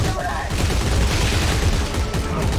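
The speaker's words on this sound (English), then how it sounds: "Maybe we can shoot our way in." Rapid bursts of gunfire in the video game Dead Space 3, a loud, dense fusillade of overlapping shots filling the whole stretch without a break.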